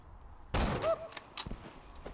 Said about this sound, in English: I'm just shooting everybody from across the way